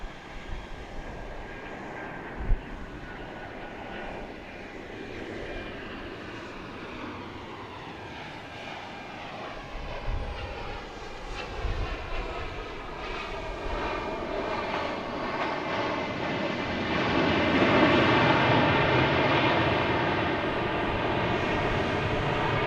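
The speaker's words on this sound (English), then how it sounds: "Incoming from Memphis, flight 3695, a 737-700." A Southwest Airlines Boeing 737-700 arriving at Dallas Love Field: a steady jet engine roar that swells and shifts in pitch as the plane passes, growing louder toward the end, heard from a distance outdoors.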